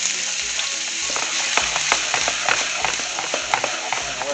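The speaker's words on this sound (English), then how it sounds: "I'm going to throw in some finely diced onion and shallots." Finely diced onion and shallots sizzling in a couple tablespoons of olive oil, a steady close frying hiss with faint stirring clicks.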